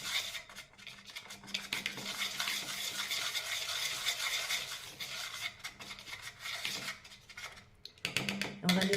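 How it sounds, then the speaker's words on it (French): Flour and cocoa powder are stirred together in a bowl for a chocolate dessert, giving a soft, continuous scraping and rubbing close by, with a few clinks of the utensil near the end. "Donc on mélange bien les poudres."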